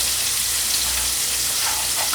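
Fish fillet pieces, crowded in a skillet of hot oil for a po boy sandwich, fry with a dense, steady, close sizzle that stays even and loud throughout.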